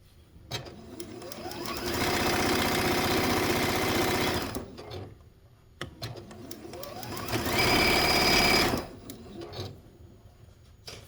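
A sewing machine stitches a quilt block in two steady motor-driven bursts of rapid needle chatter, each lasting a couple of seconds, with quiet pauses and light handling noises between them.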